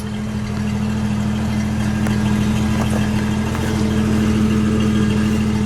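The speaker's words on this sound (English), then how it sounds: "Let me listen to it idle, Ken." A 1972 AMC Hornet SST idles outdoors on a cold day, its engine holding a steady loud low hum with an even pulsing rhythm throughout, close to the microphone and with no one speaking.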